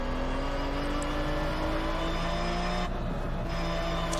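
A Chevrolet Corvette C7 Stingray engine drones steadily in the Test Drive Unlimited 2 driving game, rising in pitch as the car accelerates, briefly dipping as it shifts or lifts off, then pulling again, loud and continuous with no talk.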